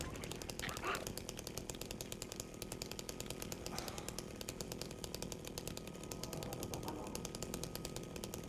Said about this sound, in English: Good, we pulled out chainsaw.